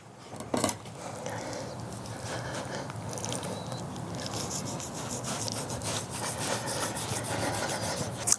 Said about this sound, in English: This is really hard fat. I wanna trim a bunch of that off.